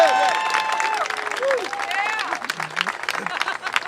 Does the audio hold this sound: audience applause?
yes